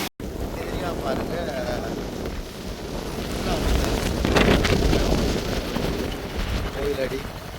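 Strong wind blasting across a flooded roadside area near the Iranamadu reservoir, roaring steadily into the microphone with gusts that swell midway, while someone talks over it.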